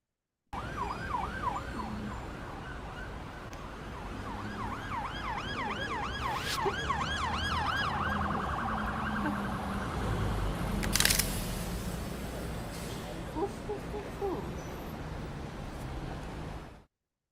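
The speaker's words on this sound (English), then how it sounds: "I get a loud truck right when I'm playing that" A loud truck passes outside with a wailing, siren-like warble that cycles up and down. A steady traffic rumble sits underneath, and a sharp, noisy swell rises about two-thirds of the way through before everything fades.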